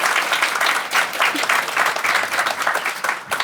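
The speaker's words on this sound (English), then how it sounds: "Let's do a mad, wild round of applause" An audience at a university Three Minute Thesis event gives a sustained round of applause, many hands clapping together in a dense, steady patter that fills the room from start to finish.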